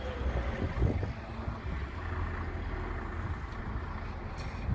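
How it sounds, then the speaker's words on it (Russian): A blizzard wind in Norilsk roars steadily with broad gusting noise and heavy rumble buffeting the microphone, with no voices over it. "Ухудшается, ухудшается, ветер усиливается, снег поднимается,"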